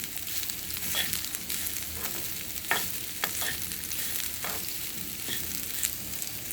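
Grated coconut roasting in a pan for chena kaaya erissery, a soft dry sizzle with repeated spatula scrapes and stirs at an even pace, close and without talk.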